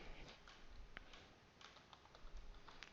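Quiet clicking of a computer keyboard as HTML code is typed, with uneven bursts of keystrokes spread across the clip and no talk.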